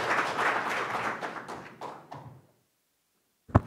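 Applause at a National Assembly policy forum on fostering contactless businesses, given for a congratulatory speech by lawmaker Hong Yong-pyo: a dense, close burst of clapping that thins and fades over about two seconds, then silence and a single sharp thump.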